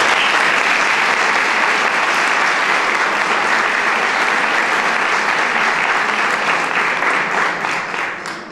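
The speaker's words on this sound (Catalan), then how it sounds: "Per això demanaria un fort aplaudiment per a ella." A hall audience at a tribute event gives strong, sustained applause, loud and even throughout before thinning slightly at the very end; no speech over it.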